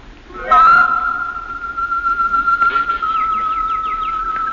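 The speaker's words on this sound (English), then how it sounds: "I went into the aviary as she suggested, and I listened to the birds." Birds in an aviary chirp and whistle in a radio drama, a steady sustained whistle-like tone with quick rising chirps layered over it, close and moderately loud.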